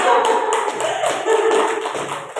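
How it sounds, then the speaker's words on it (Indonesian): A short burst of applause from a small group, steady patter of hands clapping close by, fading slightly toward the end. "Tepuk tangan untuk kita semuanya."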